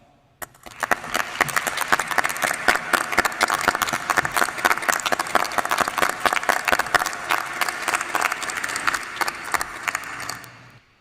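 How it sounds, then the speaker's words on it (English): A graduation ceremony audience for allied health graduates bursts into sustained, dense clapping that starts abruptly, stays loud and even for about ten seconds, then cuts off. "I just want to give all of you one more round of applause for this momentous occasion and accomplishment."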